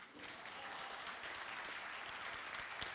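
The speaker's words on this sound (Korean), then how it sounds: "박수 한 번 보내주십시오." A conference audience at NFT META Seoul 2021 claps steadily, a dense and continuous wash of applause at moderate volume that lasts throughout.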